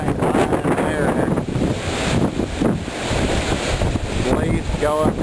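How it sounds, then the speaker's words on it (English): A strong wind gust from the Hurricane Ike windstorm sweeping across Indiana roars as loud, continuous broadband buffeting against the microphone, rising and falling across the clip. "Here comes the gust."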